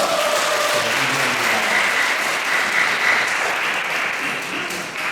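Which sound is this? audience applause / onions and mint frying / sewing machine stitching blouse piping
audience applause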